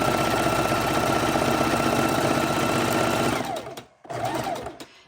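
A sewing machine runs steadily at close range while quilting raw edge appliqué on a quilt, a fast rhythmic mechanical whir that slows and stops near the end, then restarts briefly.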